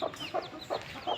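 Chickens clucking in a rooftop coop, several short clucks spaced at an even rhythm, fairly faint and close, with no talk.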